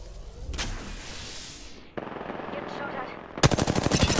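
Gunfire in a first-person shooter, with a burst at the start, a rushing swell, then a loud, rapid automatic volley of close shots at the end.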